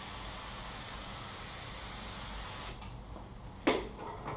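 Activator sprayed for hydro dipping gives a steady, loud hiss that fills the first half, then cuts off, followed by a faint pause and one brief sharper burst.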